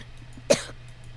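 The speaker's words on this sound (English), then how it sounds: "while I was coughing there" A single sharp human cough, close to the microphone and loud against a quiet background with a low steady hum, followed by a brief fading rasp during a Minecraft gaming session.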